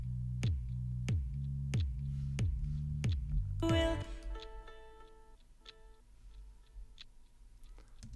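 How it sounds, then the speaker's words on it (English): Homemade instrument built from tape, sampled and crunched through a SansAmp then a delay, giving a steady run of sharp plucked low tones about twice a second, then a bright smeared burst and ringing tonal echoes trailing off. "it's an instrument that she made with some sort of tape"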